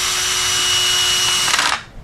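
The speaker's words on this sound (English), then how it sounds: "The pine's very soft and the screws go right in." A power drill drives a screw into a soft pine board lying flat on the ground, giving a steady close whirring grind that rises into a brief rattling burst before cutting off.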